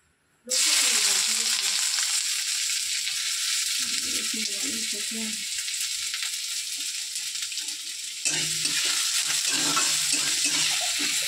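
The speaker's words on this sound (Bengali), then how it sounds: "শাকের মধ্যে আমি পেঁয়াজ আর শুকনো লঙ্কা ফোড়ন দেব" Onion and dried red chilli hit hot oil for a tempering of greens, an abrupt loud sizzle bursting in and holding steady close by, with bubbling crackle and a brief stirring scrape midway.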